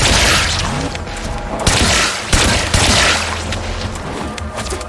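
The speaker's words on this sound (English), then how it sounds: "There should be useful detritus falling from the explosion" Explosion in the Warframe video game, a dense rumbling burst with crashing debris, booming hits near 1.7 and 2.3 seconds, then a continued roar of falling wreckage, loud and close with no talk.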